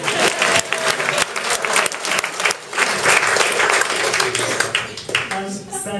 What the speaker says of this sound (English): I think we'll give her a round of applause.